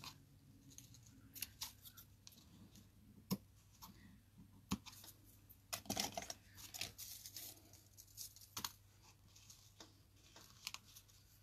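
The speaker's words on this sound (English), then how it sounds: "I am going to take my scissors" Scissors trim a ribbon bow on a tissue-paper gift card, giving faint, close snips and light crinkling paper rustles in scattered clicks over a quiet room hum.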